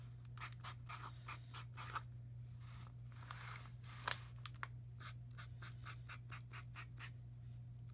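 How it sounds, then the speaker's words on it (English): A marker squeaks across gift wrap in quick, rhythmic strokes while writing XOXO, close and clear over a low steady hum. "And we'll write XOXO."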